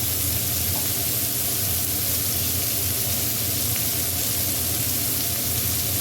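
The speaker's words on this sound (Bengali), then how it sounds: "তাতে পেঁয়াজটা ভাজা হয়ে যাবে।" Onions frying in a pan with salt for a dried fish dish, giving a steady, loud, continuous sizzle and hiss throughout with no talking.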